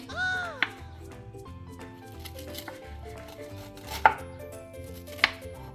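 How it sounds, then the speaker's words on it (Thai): A knife chops through soft sugar palm fruit on a board in a few sharp, separate strikes, with quiet background tones and faint activity between cuts. "เราจะหั่นอย่างนี้ หั่นอย่างนี้ค่ะ"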